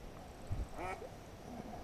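A duck gives a single short quack at a fishing spot, faint and brief against a quiet outdoor background.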